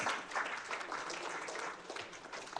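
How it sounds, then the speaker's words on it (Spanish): A church congregation claps in a brief, fairly faint round of applause, scattered hands blending into a steady patter before tapering off. "Les damos un aplauso a nuestras hermanas."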